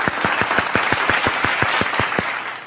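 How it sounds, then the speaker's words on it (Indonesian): Crisp, even clapping at an online children's Sunday school service: about a dozen sharp claps in a steady rhythm, close and loud, with no talking. "Tepuk tangannya dong."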